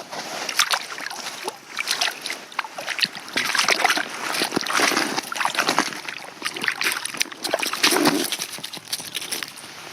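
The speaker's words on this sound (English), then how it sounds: "Don't splash my camera." A freshly caught brook trout thrashes in the water of an ice-fishing hole, giving repeated close splashes and sloshing bursts throughout, with no talk over it.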